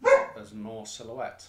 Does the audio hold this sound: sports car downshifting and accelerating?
no